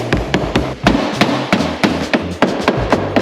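Hammer beating old, crash-damaged caravan panels back into shape, loud close metallic whacks landing in a steady irregular rhythm, about a dozen blows in quick succession.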